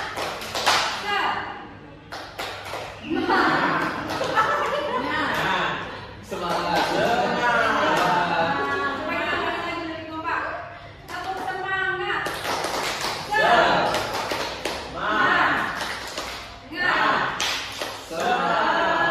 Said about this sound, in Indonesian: coba kita tepuk tangan dulu biar nggak ngantuk ibu ya